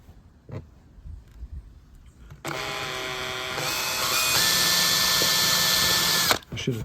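Power drill boring a pilot hole into a handle mount on a wooden teardrop camper, starting after a quiet pause with a steady high whine that rises in pitch midway, loud and close, running about four seconds before stopping abruptly.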